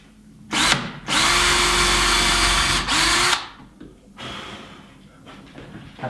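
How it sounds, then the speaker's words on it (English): A power drill pre-drills holes into a wooden board, giving a brief burst and then a sustained whirring run of about two seconds, followed by a shorter second run, close and loud, with heavy breathing in between. "I'm just going to come back here and pre-drill some holes into this board."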